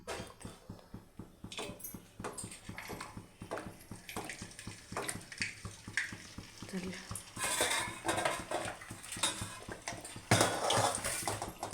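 Amla, Indian gooseberries, dropped into hot oil for pickle, with a metal spoon clinking and stirring in the pan, light sizzling under it and louder hissing bursts near the end.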